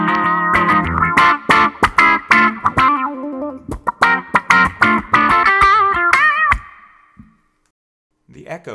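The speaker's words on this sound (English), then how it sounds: "But if I try harder, I can get a real thick quack sound out of it." An electric guitar played through a wah pedal gives a thick, quacking tone, with a rapid series of rhythmic plucked notes sweeping in timbre, close and loud, then fading into silence before a brief sound at the end.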